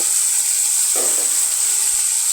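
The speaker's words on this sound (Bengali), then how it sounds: "এখন নেড়ে চেড়ে ঢাকনা দিয়ে ঢেকে করলাটা ভেজে নিব।" Sliced bitter gourd fries in a pan with a steady, bright sizzle and hiss, close and continuous, with a brief stirring scrape near the middle and no talk.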